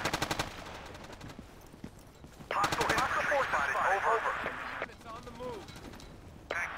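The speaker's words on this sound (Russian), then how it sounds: "Как он стреляет." Automatic gunfire in the video game Battlefield 2 during a team battle over a hotel, with rapid bursts of shots at the start and again mid-clip. Other game sounds and voices mix in.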